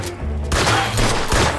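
Gunshots in the action game Mafia II: Definitive Edition, a few loud, close reports ringing out in quick succession over a noisy background.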